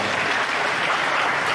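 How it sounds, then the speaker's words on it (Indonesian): An audience claps together in a short, dense burst of applause that lasts under two seconds and stays steady throughout. "Oh, tepuk tangan."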